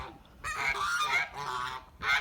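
Geese honking in a loud, overlapping chorus of harsh, nasal calls, several birds close by with brief pauses between bursts.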